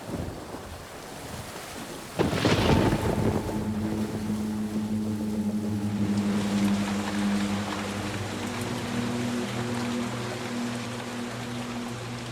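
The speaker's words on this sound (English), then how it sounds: "Late in the afternoon, a violent storm strikes the Amazon." A violent thunderstorm over the Amazon River: rushing wind and water with a sudden loud gust or thunderclap, then a boat engine droning steadily under heavy rain.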